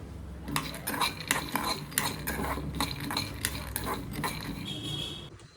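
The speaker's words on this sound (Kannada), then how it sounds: "ಶೇಂಗಾ ಎಲ್ಲ ಹುರ್ಕೊತಾ ಇದ್ದೀನಿ" Peanuts roasting in a pan on a home kitchen stove for a festival meal, stirred continuously with a metal spatula that scrapes and clinks steadily, up close, with a faint voice in the background.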